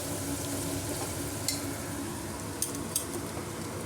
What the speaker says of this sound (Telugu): కరివేపాకు, వంకాయ అన్నీ కలిపి వేసేద్దామండి, ఫ్రై అవుతుంది.